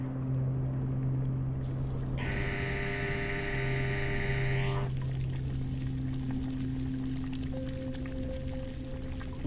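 Submarine engines in a U-boat video game drone as a continuous low mechanical hum, joined midway by a loud hissing burst before settling back to a steady drone with a faint tone.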